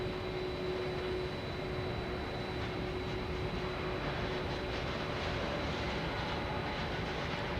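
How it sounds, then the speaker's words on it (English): A truck drives past in front of the observer at Boston Logan Airport, giving a loud, steady, rumbling roar that holds evenly for the whole stretch with no voices. "That's a truck going in front of us making all the racket,"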